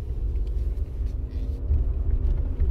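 A Toyota RAV4 pulls away and rolls slowly, its engine and tyres making a steady low rumble that swells slightly toward the end, heard from inside the car with no other sounds.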